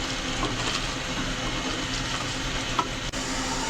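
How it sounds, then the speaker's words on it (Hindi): Potatoes frying with masala in a pot for a village-style degi aloo chicken curry, a steady close sizzle with faint stirring and a small clink near the end. "अब आलू को इस मसाले के साथ तकरीबन 5 से 6 मिनट भूनेंगे"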